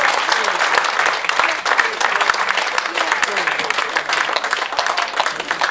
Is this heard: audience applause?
yes